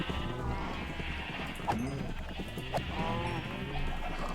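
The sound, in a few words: sheep bleating in a video game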